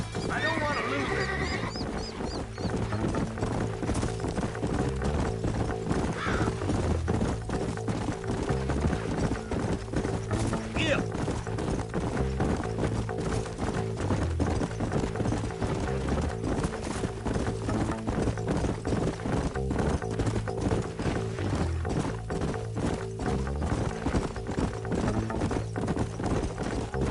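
Horses gallop in Red Dead Redemption, the rapid hoofbeats drumming steadily for the whole stretch under game music, with an early whinny and a few creaking tack sounds.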